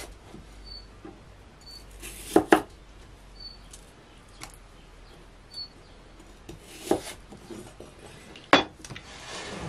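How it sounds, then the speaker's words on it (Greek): Potatoes being chopped into small pieces on a board, a few sharp, sparse knife knocks and clicks spaced irregularly over quiet kitchen background. "Τις κόβουμε μικρές για να μπορέσουν να βράσουν πιο γρήγορα."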